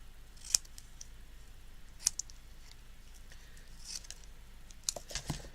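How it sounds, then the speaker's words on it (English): Scissors snip out paper letters for a stamped card project, giving a few sharp, isolated cuts spaced apart, then a quicker cluster of small snips at the end, close and quiet with no talking. "And then you just cut each letter"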